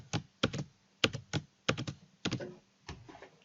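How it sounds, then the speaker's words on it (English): A password is typed on a computer keyboard during a Yahoo mail login, a crisp, close run of about a dozen separate key clicks in small uneven clusters, with no talking over them. "type in the password over here"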